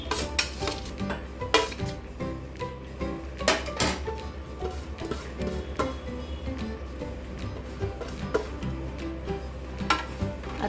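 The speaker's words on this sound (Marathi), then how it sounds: "सगळं भांड्यामध्ये एकत्र करून घ्यायचे।" Grated cucumber, carrot and tomato being stirred together in a bowl for an Indian koshimbir salad, with steady scraping and clinking of a spoon against the dish in close, busy bursts and no talking.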